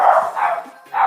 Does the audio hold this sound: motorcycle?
no